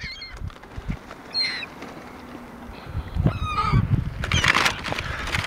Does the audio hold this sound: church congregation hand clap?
no